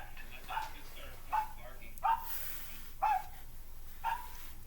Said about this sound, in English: What's a dog barking at?